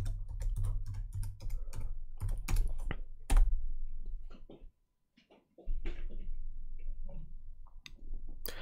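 Keys on a computer keyboard are tapped in quick irregular bursts nearby, with a brief silent gap midway before the clicking resumes.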